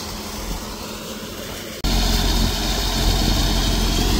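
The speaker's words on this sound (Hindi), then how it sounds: "तो ये गेहूं का ट्रैक्टर आ गया है, उधर खाली करने जा रहा है" A tractor hauling harvested wheat arrives at a farm field where chickpea threshing is underway, a steady engine drone that jumps abruptly louder and closer midway, then holds a loud rumbling idle.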